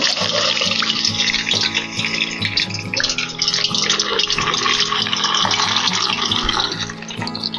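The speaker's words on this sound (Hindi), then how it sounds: "अब हम आहिस्ता आहिस्ता 1 बाय 1 इसमें पीस डालते जाएंगे।" Masala fish pieces fry in hot oil in a kadhai over a medium-to-low flame, a loud, steady, close-up sizzle that carries on without a break and without talk.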